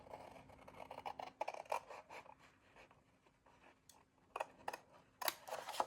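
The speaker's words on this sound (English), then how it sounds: "So just cut to the second fold line and then cut away" Scissors cut 12-inch craft paper along a fold line, giving crisp close snips and scraping paper rustles in quick irregular bursts, quiet overall with no talk.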